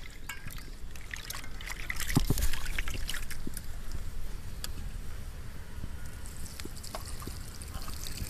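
Prawns rinsed in water for a Bengali bamboo prawn recipe: a steady trickle and swish of water with light splashing close by, constant throughout with no speech.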